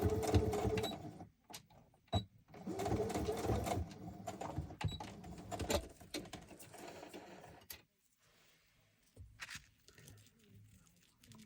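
A sewing machine stitches junk journal pages in short close bursts of rapid mechanical whirring, stopping and starting several times, with brief handling sounds and quiet gaps toward the end.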